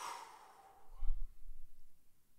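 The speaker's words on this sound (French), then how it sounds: "Inspirez, expirez." A single deep breath taken during a guided meditation, a soft airy exhale followed by quiet low rumbling, faint and alone with no talking.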